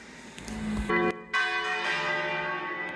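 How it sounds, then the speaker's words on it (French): Church bells ring close by at the Placetta dei Balestrieri along a cliffside path, loud overlapping clangs with a long ringing decay and a short gap before the peals resume. "Et là tu profites du son des cloches."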